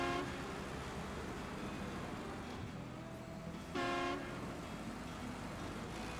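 A distant truck engine rumble in the video game Snowrunner hums along, then a short, sharp horn toot sounds near the end.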